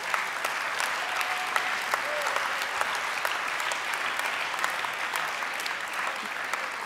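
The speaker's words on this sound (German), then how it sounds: "Applaus" Audience applause at a German Green party state conference on the energy transition, steady dense clapping from a crowd holding level throughout.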